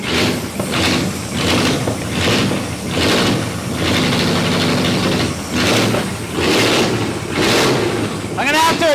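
A carbureted engine in a single-seater car runs rich, a rough, uneven idle with rhythmic pulses and surges, heard close up while people talk over it.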